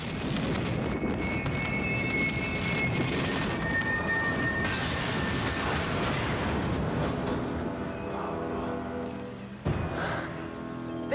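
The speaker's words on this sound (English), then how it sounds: "The train has derailed its cargo of chocolate bars, jelly beans, and beanie babies." Loud, dense rumble and crashing roar of a train derailing in a film scene, with a steady broadband wash throughout and a sharp impact near the end, no talk.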